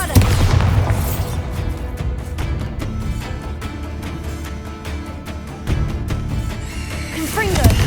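Bombarda spell explosions in the video game Hogwarts Legacy, a loud, dense run of booming blasts and crackling bursts with rapid impacts and heavy rumble, mixed with battle effects and vocal shouts.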